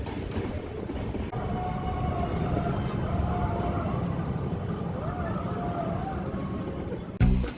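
A Nilgiri mountain railway train rumbles steadily along the rails toward Ooty with a wavering tonal whine over the clatter, ending in a sudden loud clank.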